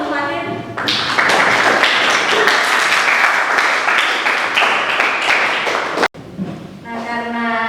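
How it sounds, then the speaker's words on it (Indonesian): Classroom applause for a student presenter in a chemistry class, a dense burst of many hands clapping together for about five seconds before cutting off abruptly, with a teacher's voice speaking before and after. "Oke, kita beri aplaus untuk Fatin."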